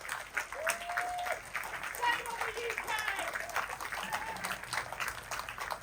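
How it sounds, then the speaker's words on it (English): Audience applause at an outdoor festival speech, a sustained crowd clapping heard with voices and cheers mixed in throughout. "Yes, they deserve your applause."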